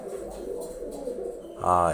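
Giribaz pigeons coo in a low, continuous murmur, ending with one louder, rolling coo up close.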